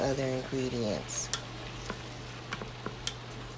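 Ground meat browning for chilli in an Instant Pot, giving a steady close sizzle broken by light scraping and ticking from stirring, with a short tonal sound at the very start.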